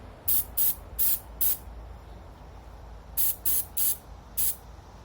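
Durablue aerosol coating sprayed onto gun parts in thin coats, heard as close, loud hissing bursts: four quick sprays, a pause, then four more, with nothing else in between.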